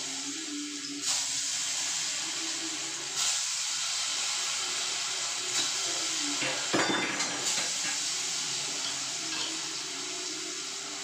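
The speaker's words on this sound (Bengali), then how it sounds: "পটলগুলোকে ভাজতে দিয়ে দিই।" Pieces of pointed gourd fry in hot oil with a steady, close hiss and sizzle. A few louder crackling surges break through now and then, and no voices are heard.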